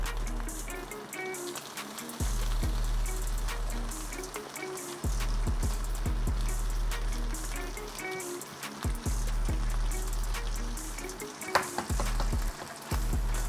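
Ham hock and turkey fat fry and crackle in a pan over medium-high heat, a steady sizzle with occasional stirring scrapes and louder pops, no talking.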